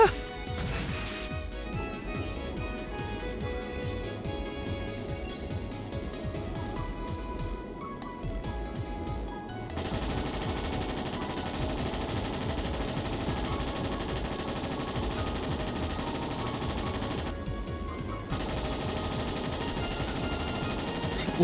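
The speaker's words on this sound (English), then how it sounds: "Look at those bullets not even reach the ship." Sustained gunfire rattles on and on at an airship in the video game Trails in the Sky SC, dense and continuous amid game music and effects.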